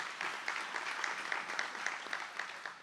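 Moderate audience applause at an annual women's sports luncheon runs in a steady, even wash of many clapping hands from start to finish.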